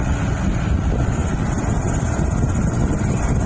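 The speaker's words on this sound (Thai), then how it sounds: "ลมแรงลมแรง" Strong wind roars steadily across the microphone in a dense low rumble that never lets up, loud and unbroken without any voices.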